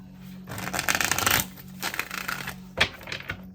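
Tarot cards shuffled by hand in several loose riffling bursts, a long busy run followed by shorter flurries and a sharp snap near the end, close and fairly loud with a low steady hum underneath.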